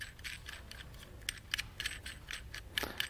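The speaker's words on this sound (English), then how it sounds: "So just undo the nut on the back side there." A nut being unthreaded from the back of a BOLT toolbox latch lock, heard as faint, close metallic ratcheting clicks in an uneven rhythm over quiet background noise.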